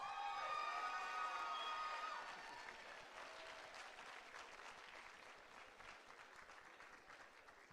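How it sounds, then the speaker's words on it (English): A concert audience applauds a school honor band, dense clapping that starts loud and full, then thins and fades gradually as the ovation winds down. "give this fine band another big round of applause"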